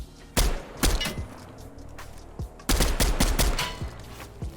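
Gunshots in Fortnite ring out in a few sharp, loud bursts: single cracks early on, then a fast cluster of rapid shots near the end, with no talking over them.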